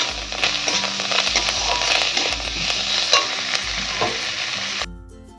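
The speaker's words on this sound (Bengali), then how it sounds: "ধনে পাতা দিয়ে দেবো দিয়ে ভালো করে নাড়াচাড়া করে নেবো" Mashed potato and tomato with coriander leaves stirred in a pan over low flame, a steady close sizzle with repeated scraping strokes of the spatula, loud and continuous with no talk, cutting off near the end.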